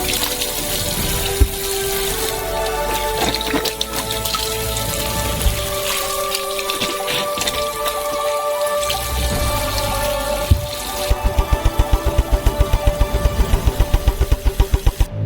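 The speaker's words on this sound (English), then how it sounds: "And each orange needs to be thoroughly washed." Running water splashes and pours into a kitchen sink as whole oranges are washed, a steady watery wash with clattering handling sounds and a quick rhythmic tapping near the end, no talk.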